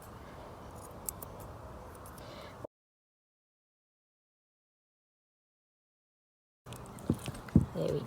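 Grooming scissors snip lightly around a dog's foot at home, giving short quiet clicks, with a stretch of silence between the two bursts of trimming.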